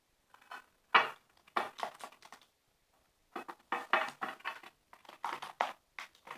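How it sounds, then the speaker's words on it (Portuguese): Clear slime ingredients being stirred in a bowl, producing quiet, irregular scraping and sticky squelching strokes in short bursts separated by pauses. "Tô aqui misturando bastante."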